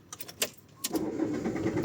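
After a few sharp clicks, a car's starter motor cranks steadily without the engine catching. The whirring is close and continuous, on a car that broke down near Slovak Paradise.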